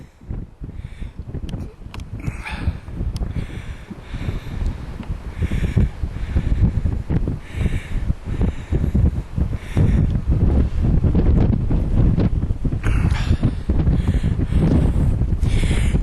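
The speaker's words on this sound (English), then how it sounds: "It's very breezy" Strong wind buffets the microphone on a Dorset coastal hilltop near Lulworth Cove and Durdle Door, loud, gusty rumbling that swells and stays heavy throughout.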